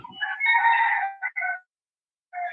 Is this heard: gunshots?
no